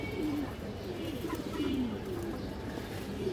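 A pigeon coos in soft repeated low phrases, close by and steady over a few seconds, with no one talking.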